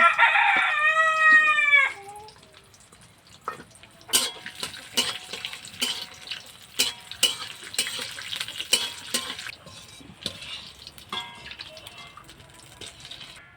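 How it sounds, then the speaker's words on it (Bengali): Ghee is added to hot white oil in a pan, giving a soft sizzle with scattered spoon clinks and scrapes. At the start, a loud rooster crows once, close by. "আমি এই সাদা তেলের মধ্যে ঘি দিয়ে দিচ্ছি"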